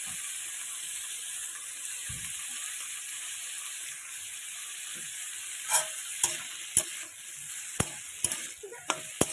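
Spring onions and vegetables for chow mein sizzle in a pan with a steady high hiss, then a run of sharp spatula scrapes and taps against the pan toward the end, close by.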